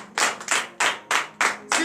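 A congregation at a morning prayer service claps in unison, six sharp, loud rhythmic bursts of hands spaced evenly about a third of a second apart, with no speech.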